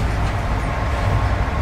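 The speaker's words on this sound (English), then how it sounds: "we're on a train." Inside a train travelling through the Scottish Highlands toward Inverness, a steady low rumble and rattle of carriage running on the rails, continuous and close with no speech.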